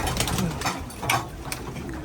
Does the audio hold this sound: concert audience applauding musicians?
no